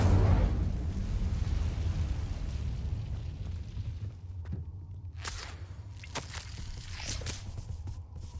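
A fire spell from Hogwarts Legacy erupts in a loud, low booming burst at the start, then rumbles and crackles on with sharp snapping pops scattered through the tail.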